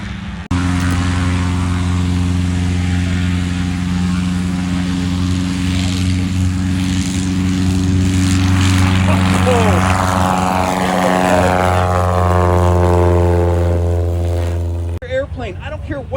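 A STOL airplane's propeller engine drones steadily and loudly at a Sun 'n Fun demonstration, with a strong low hum that swells briefly then cuts off near the end. Someone talks over it throughout.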